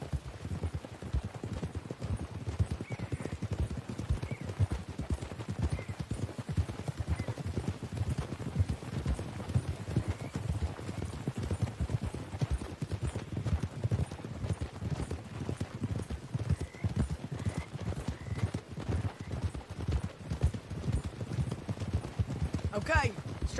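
Horses' hooves clip-clopping steadily on the ground in the video game Red Dead Redemption 2, a continuous close trotting rhythm lasting the whole stretch, with character dialogue spoken over it.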